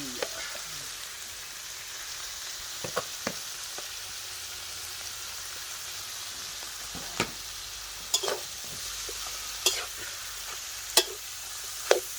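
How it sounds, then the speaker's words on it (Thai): Steady low sizzle of duck meat stir-frying in a pan, with scattered clicks and scrapes of stirring over the quiet hiss. "กำลังจะเอาเนื้อลงกระทะนะครับ"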